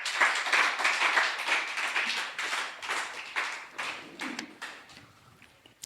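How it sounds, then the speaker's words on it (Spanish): A church congregation claps in a burst of applause during a Spanish-language service, dense hand-claps close and fairly loud at first, then thinning and fading toward the end. "¿Por qué no le da un aplauso al Señor?"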